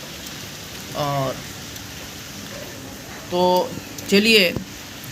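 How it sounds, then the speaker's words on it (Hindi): Heavy rain falls as a constant, even hiss from a window seat, with a voice speaking briefly over it a few times. "बारिश झमाझम हो रही है।"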